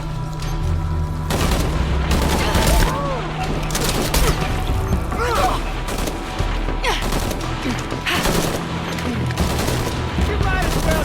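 Heavy firefight in Shadow of the Tomb Raider, with dense overlapping gunshots, booms and impacts going on continuously and loudly, while voices shout over the shooting.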